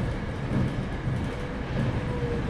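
A train running through a tunnel, as a sound effect in a PSP horror game: a continuous, fairly loud rumble with a rattling wheel clatter and no break.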